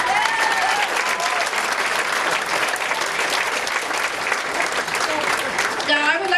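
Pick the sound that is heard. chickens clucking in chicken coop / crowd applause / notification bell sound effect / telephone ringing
crowd applause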